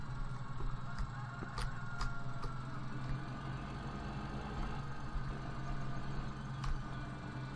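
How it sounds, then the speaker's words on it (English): Deutz 720 tractor engine in Farming Simulator 2013, a low, steady idling drone with a constant hum, moderately quiet, with a few faint ticks and clicks over it. "This big 720 Deutz tractor, it doesn't take too much to get her going a little too quick in reverse."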